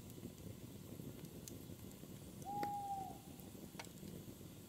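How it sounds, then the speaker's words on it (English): A single owl hoots once at night, a clear sustained call rising out of a soft, steady bed of quiet background noise in a peaceful village setting. "An owl wakes somewhere and calls."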